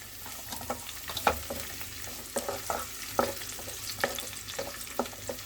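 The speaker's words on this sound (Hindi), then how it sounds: "वो प्याज डाल दूंगी और इसे भी हम अच्छे से भून लेंगे।" A very large chopped onion fries in a pan for sarson da saag, with a continuous sizzle broken by repeated scraping clicks of a spoon stirring against the metal at an uneven rhythm, close and clear.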